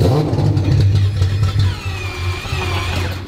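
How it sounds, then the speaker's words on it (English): A 4-rotor rotary engine runs and revs in a car, a loud close rumbling drone that builds and shifts in pitch with no talking over it. "we got an engine back up and running"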